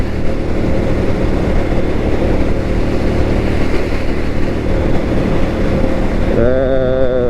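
Motorcycle ridden on a cold Saturday morning run out west, engine drone and wind roar filling most of the stretch, then easing near the end as a steadier, cleaner engine tone emerges.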